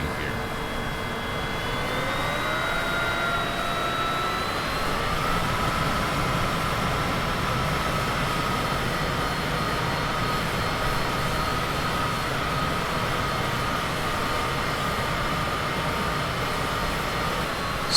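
A Cessna Citation CJ4 jet landing in Microsoft Flight Simulator 2020 gives a loud, steady engine roar with rising whine tones early on, then a continuous rushing drone to the end, with no talk.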